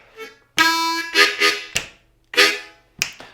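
A harmonica plays a slow 12-bar country blues riff of separate reedy notes drawn on in-breaths, with pauses between them, each note swelling and fading, close and clear.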